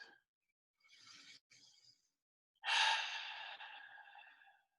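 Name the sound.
deep breaths let out through the mouth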